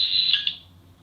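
A 14th Doctor sonic screwdriver toy gives a single high, steady electronic beep held close to the mic. The tone warbles briefly partway through, then fades out over about a second, with no talk.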